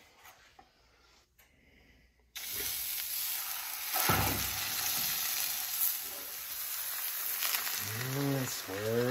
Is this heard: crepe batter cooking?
yes